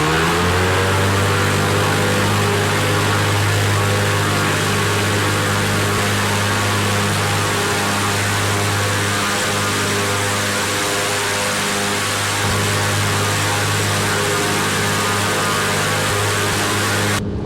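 Simulated Piper PA-28-181 Archer III single-engine light aircraft in X-Plane 11, engine at full power for a short-field takeoff: a loud, steady droning hum with strong harmonics, sustained without break and no speech.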